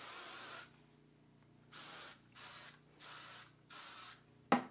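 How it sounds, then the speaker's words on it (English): Texturizing hair spray hisses from an aerosol can in five bursts, one long spray followed by four shorter ones, close and clear, ending with a small clack. "spray it with some texturizing spray"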